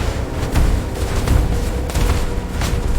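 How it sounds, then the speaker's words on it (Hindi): Huge missile-strike explosion rocking a city, with deep rumbling booms that swell and roll in repeated heavy waves across the span, loud and close, with no voices present. "भयानक धमाका होता है और आग और धुएं से पूरा शहर हिल जाता है।"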